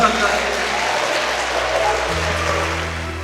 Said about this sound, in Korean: 다시 한 번 더 큰 박수 부탁드리겠습니다